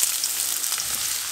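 Onions sizzling in hot oil with cinnamon sticks in a pan for an Indian chicken kofta curry, a steady close hiss of frying throughout.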